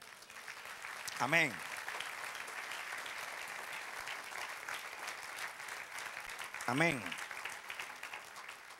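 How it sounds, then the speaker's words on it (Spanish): A church congregation applauds continuously at moderate volume, with brief spoken exclamations from voices breaking through twice over the steady clapping. "Denle un aplauso al Señor."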